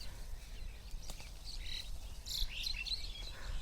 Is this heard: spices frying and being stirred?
no